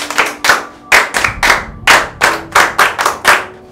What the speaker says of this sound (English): Can you clap for yourselves?